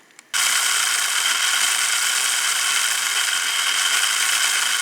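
A model train locomotive with dirty wheels starts up and runs on the track, giving a loud, continuous mechanical whirring and rattling hum after a brief quiet start.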